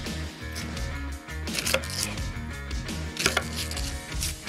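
An onion being chopped roughly on a board, a series of close, uneven knife strikes with a few louder chops standing out, heard without talk.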